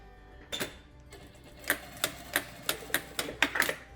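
A sewing machine tacks down the fabric edge of a face mask in a quiet room, starting with a short burst and then giving a rapid series of about eight close, crisp mechanical clacks.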